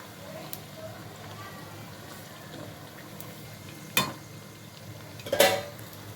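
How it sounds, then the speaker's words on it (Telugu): Pieces of chicken fry in hot oil for a chicken curry garelu dish, giving a soft, steady sizzle close by, broken by two sharp clinks of utensils against the pan. "గోల్డెన్ కలర్ వచ్చే వరకు ఆయిల్లో ఫ్రై చేసుకుందాం."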